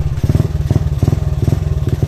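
A motorcycle engine runs close by with a rough, rhythmic idle, chugging in steady loud pulses throughout.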